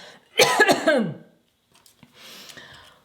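A person coughs several times in a sharp burst after catching the heat of chili peppers while handling tomato and chili plants, followed by a quieter breathy exhale.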